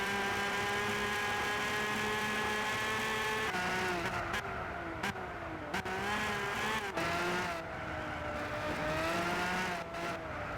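A race car in Gran Turismo 6 drives around the F1 circuit at the Nürburgring, its engine whine holding a steady pitch and then dipping and climbing as it shifts and corners, with brief sharp breaks in the sound.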